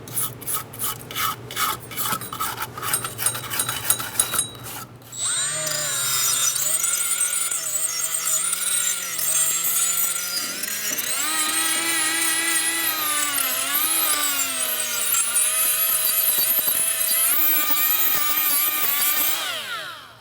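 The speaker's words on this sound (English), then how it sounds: "get the rust off with a wire brush" A wire brush scrubs rust from the brake surface of a 2010-2013 Kia Soul during a parking brake shoe job, with a few short rasping strokes first and then a long, steady, loud scraping that runs unbroken for about fifteen seconds, with no talk.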